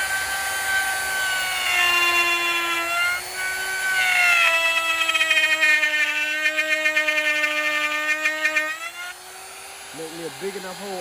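A power tool whines at high pitch while plunge-cutting a hole in wood for custom box Chevy speaker rings, close and loud with a steady motor tone that wavers under load, then winds down as someone starts talking.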